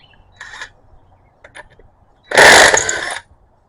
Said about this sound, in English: I'm going to use my impact wrench because I am lazy.